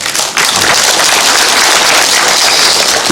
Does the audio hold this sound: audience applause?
yes